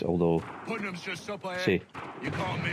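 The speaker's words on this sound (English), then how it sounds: "You can hear the sounds of shelling in the background." Early artillery cannon shelling from the Battle of Lexington and Concord in Assassin's Creed III rumbles in the background beneath someone speaking in the foreground.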